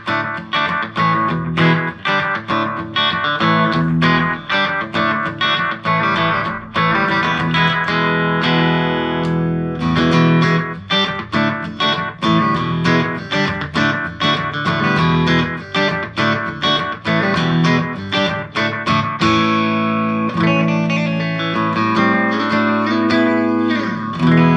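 An electric guitar plays through a cheap bass amp with reverb and delay, a run of rhythmic strummed chords and picked notes ringing into echoing tails, loud and continuous with no talking.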